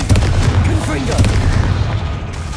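A Confringo blasting spell bursts in the wizarding game Hogwarts Legacy, a loud booming explosion with crackling debris over a continuous low combat rumble.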